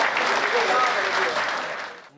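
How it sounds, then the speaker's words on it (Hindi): Applause from an audience at a Hindi comic poetry gathering, a dense steady clatter of clapping that holds for about two seconds before tapering off at the end. "आपकी तालियां कम है।"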